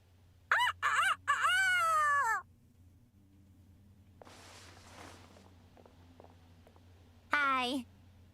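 A character in the video game Fire Emblem Engage does a rooster impression, a voice imitating a crow with short stuttering calls that stretch into a long warbling cry, then another brief crow after a quiet pause with light footsteps.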